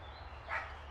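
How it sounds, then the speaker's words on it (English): A dog barks once, faint and fairly distant, during a woodland hike near a canal, over a soft steady outdoor background. "Oh, we got a dog."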